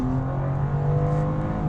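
BMW M2 (2023) engine note from inside the cabin, a steady droning hum with tonal harmonics under hard acceleration, continuous and moderately loud with no talking.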